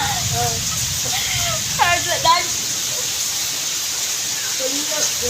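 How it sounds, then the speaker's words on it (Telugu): Heavy rain pours in Bangalore as a steady, loud broadband hiss that fills the whole scene, with voices talking over it now and then. "జోర్ వానా"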